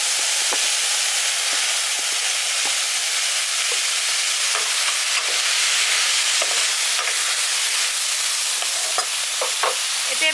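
Fried potatoes go into a pan of bottle gourd leaves cooking village style, and a loud, steady sizzle carries throughout with faint stirring scrapes and no talk.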